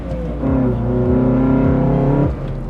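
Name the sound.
Honda Accord EXi-S CD5 engine intake noise accelerating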